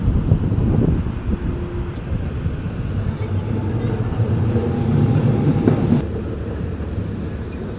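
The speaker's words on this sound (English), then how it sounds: "The street train is just blending along with the car." Tokyo street tram rolling along a road beside car traffic, a steady low rumble with rail noise throughout and a brief sharper screech near the end.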